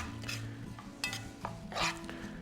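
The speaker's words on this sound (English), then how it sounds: "To that I'm stirring in now the red pepper, which I've diced." Diced red pepper and long grain rice being stirred in a pan, with a few soft scrapes and light clinks of the utensil against the pan over a low steady background.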